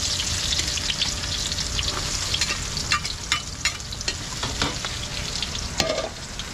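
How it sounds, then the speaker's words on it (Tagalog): Bitter gourd leaves sautéing with garlic, onion and tomato in a pan, a loud, close, continuous sizzle broken by frequent scraping and clinking stirs of the spatula, with no voices. "So gigisa ko na yung dahon ng pampalaya. Bawang sibuyas lang, kamatis."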